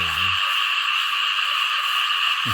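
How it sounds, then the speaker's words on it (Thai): Dense chorus of frogs croaking nonstop across a flooded rice field at night after heavy rain, a steady loud wall of calls with a brief low rumble at the start and end. "เสียงกบเสียงเขียดวุ่น"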